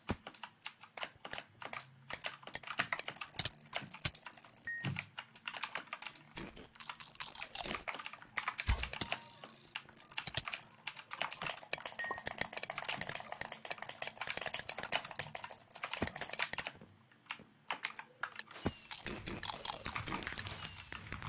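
Rapid computer keyboard typing clatters nearby in dense, uneven bursts, with sharp mouse clicks scattered through it and no talking.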